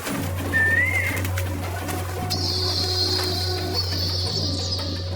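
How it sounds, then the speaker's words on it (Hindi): A koel calls in the morning, a single rising whistled note followed by a sustained high call that carries over a steady low hum, moderately loud and heard without any talk. "दूसरे दिन सुबह में कोयल आकर कूकने लगती है।"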